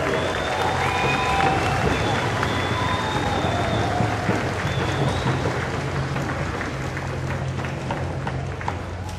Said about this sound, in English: if we can hear another round of applause for our Polynesian family